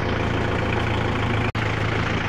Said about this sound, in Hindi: और हमारा ट्रैक्टर सामने से जंप ना हो इस कारण से हमने एक यूरिया की बोरी रख चुके हैं सामने, तो यह अच्छा दब के चल रहा है